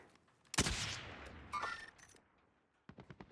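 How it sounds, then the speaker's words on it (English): Gunshots in Call of Duty: Warzone: a loud close gunshot with a long echoing tail, a second crack soon after, then a rapid string of quieter shots in the distance. "I just heard some gunshots. Sounded real close."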